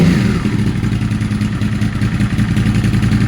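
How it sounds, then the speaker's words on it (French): A newly fitted engine in a Suzuki SV650 motorcycle runs close and loud, with a continuous throbbing, slightly clattery rumble that stays steady throughout. "Le tout nouveau moteur. Il a l'air d'aller plus fort que l'autre."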